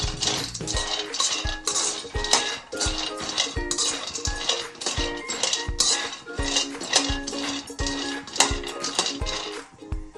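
Almonds being dry-roasted in a pan, stirred with quick, regular scraping clatters as the nuts rattle against the metal, a busy rhythmic clinking repeated many times up close.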